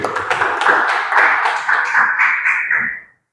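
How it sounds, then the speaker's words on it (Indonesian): Short burst of classroom applause for a student named Fahri, a few seconds of brisk hand clapping by a group of pupils that ends abruptly. "tepuk tangan untuk Fahri"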